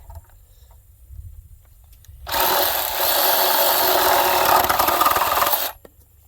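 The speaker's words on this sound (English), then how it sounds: "When all else fails, break out the power tools." A power tool whirs loudly for a few seconds with a harsh, gritty buzz, starting abruptly after quiet handling noises and cutting off just as sharply.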